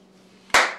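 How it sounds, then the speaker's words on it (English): A single sharp hand clap, close and loud, after a quiet stretch with a faint low hum. "You know why I'm clapping my hands?"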